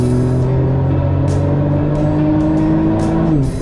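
A supercharged Chevrolet ZR2 accelerates hard on a 0 to 60 run, its engine note climbing steadily in pitch, loud and close, with brief higher whooshes and a dip near the end as it shifts.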